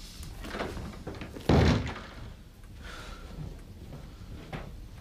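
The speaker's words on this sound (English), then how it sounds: "Shut the door." A door is shut indoors in a quiet room, giving a single solid thud near the middle of the clip against a low background hush.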